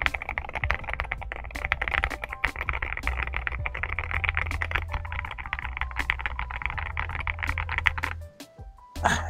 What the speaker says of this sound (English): The sound of it is a very deep, earthy tone.